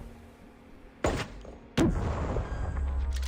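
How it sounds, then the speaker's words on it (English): Two sudden explosions in the VR game Sweet Surrender on Quest 3: a sharp blast about a second in, then a louder, longer boom that rumbles on over steady background noise. "Bloody explosions going through the wall"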